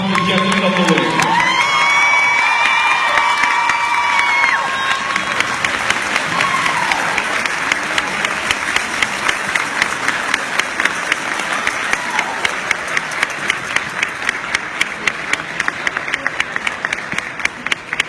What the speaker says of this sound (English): Please give a hand of applause to Jessica Lewis.